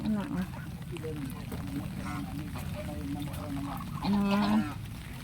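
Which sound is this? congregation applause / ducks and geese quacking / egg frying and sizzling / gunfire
ducks and geese quacking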